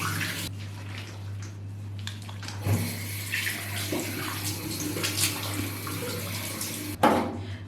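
Tap water running into a sink while someone washes their face, a steady close hiss of flowing water with splashing and brief interruptions, a loud burst near the end, no talk.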